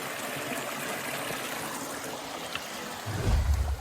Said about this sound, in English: little stream flowing through the hills